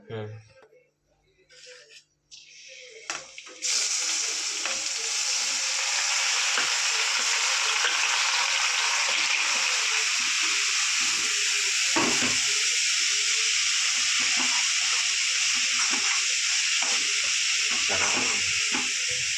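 Bottle gourd frying in ghee in a large kadai for halwa: after a quiet opening, a loud steady sizzle starts and holds, broken by occasional spoon scrapes and clinks.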